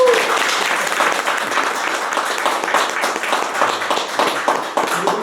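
Steady, dense applause from a lecture audience at an anti-corruption education academy, sustained at even loudness with no voices over it.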